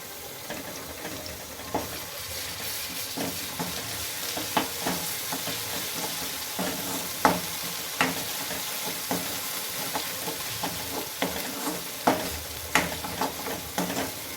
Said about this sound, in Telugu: అల్లం వెల్లుల్లి పేస్ట్ ఆయిల్లో బాగా ఫ్రై అవ్వాలి